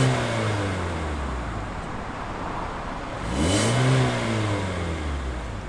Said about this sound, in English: that engine, it doesn't sound amazing